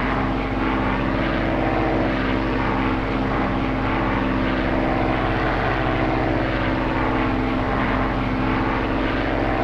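A P-51D Mustang's piston engine runs at steady high power during an ignition system check in the DCS flight simulator, a loud, continuous propeller drone with a constant throbbing tone and no pauses.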